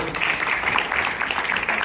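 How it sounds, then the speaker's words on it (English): A school audience applauds a safety patrol officer at a ceremony, a steady, fairly close wash of many hands clapping throughout the short moment. "Big round of applause for Brian."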